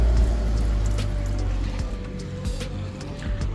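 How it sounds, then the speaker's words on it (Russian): Water runs from a public water source in the Georgian town of Akhmeta, a close steady trickle and splash over low rumbling background noise, with no talking. "Какой-то тоже источник воды."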